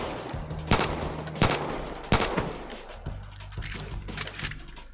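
Loud, separate gunshot bursts in Far Cry 5 on Android, roughly four sharp reports spaced across the moment over a steady low engine-like hum, with no talking.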